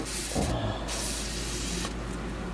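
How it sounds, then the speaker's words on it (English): Continuous hissing aerosol spray close by, cleaning a gun barrel and its threads, with a short break mid-burst, then spraying again. "So we're going to spray that down as well."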